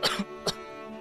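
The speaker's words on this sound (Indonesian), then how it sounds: "Batukmu parah kayak gitu juga." Two short, rough coughs from a sick person come close to the mic, the second after a brief pause, against a quiet room.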